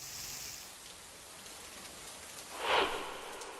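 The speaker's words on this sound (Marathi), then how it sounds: "साताऱ्यातल्या पश्चिम घाट परिसरात पावसाचा जोर कायमच आहे" Heavy monsoon rain in the Western Ghats near Satara comes through as a soft, steady patter, quite faint, with one brief louder rustle near the end.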